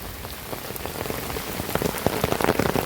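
Heavy rain pours steadily, a dense hiss of drops drumming on a hard surface, close and growing slightly louder toward the end, with no voices.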